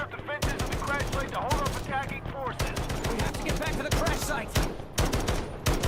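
Rapid automatic gunfire in Delta Force, a loud, dense stream of close shots firing almost continuously with brief gaps, with speech faintly present beneath.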